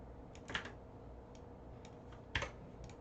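Sparse keystrokes on a computer keyboard while code is written, a handful of quiet, separate clicks spaced irregularly against a faint room hush.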